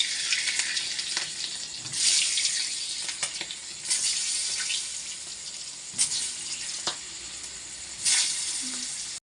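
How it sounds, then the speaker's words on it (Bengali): Boiled potatoes fry with turmeric in hot oil in a kadai for chicken biryani, giving a steady close sizzle that swells in bursts every couple of seconds, with no voices. "সেদ্ধ করা আলুগুলো ভেজে নেওয়ার জন্য আমি কড়ার মধ্যে দিয়ে দিয়েছি তেল আর দিচ্ছি হলুদ"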